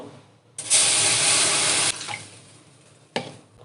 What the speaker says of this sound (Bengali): কড়াইতে জল দিয়ে দেবো